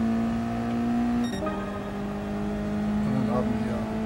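Mazda Roadster engine at full throttle in a racing video game, a steady droning tone that shifts pitch mid-clip as it changes gear, with speech over it.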